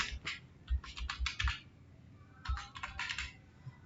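A password is typed on a computer keyboard in two short bursts of quick, close keystrokes separated by a pause.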